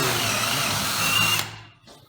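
An Einhell TE-CD 18 Li BL cordless brushless drill driver whirs steadily at high speed, close and loud, then spins down and stops with a faint click.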